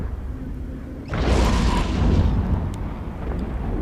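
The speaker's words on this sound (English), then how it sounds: "They did use the long range artillery cannons, I believe, based on the effects that I've seen coming from the ship" Heavy boom of long range artillery cannons firing in the space game EVE Echoes, a sudden loud blast that swells into a broad rumbling roar and slowly fades, with no voices.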